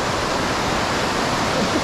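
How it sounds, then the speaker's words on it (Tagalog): River water flows steadily nearby, a dense, even rushing hiss with no breaks and no voices over it. "At yung maligasgas ng tubig, talaga nakaka-relax."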